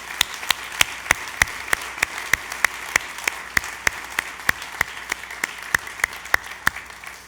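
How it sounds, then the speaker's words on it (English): Keynote audience at the La Marzocco Partner Summit 2016 applauds, a steady crowd clapping with one nearby pair of hands slapping out sharp, evenly timed claps throughout. "And I just think, Whitney, can we get another round of applause?"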